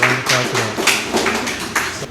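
A small audience claps at a live birthday and book release event in Atlanta: a short burst of separate, loosely rhythmic hand claps with a low steady hum beneath.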